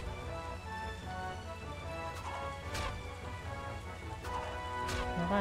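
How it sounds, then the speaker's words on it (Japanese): Rain pours down in the feudal Japanese strategy game Taiko Risshiden V DX, a steady hiss and patter that runs throughout beneath tonal game music. "雨降り出した。"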